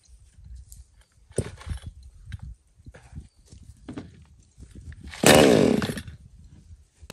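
A newly bought chainsaw, handled by a first-time user, roars in one loud, short burst near the end after quieter stretches of low rustling and thumps.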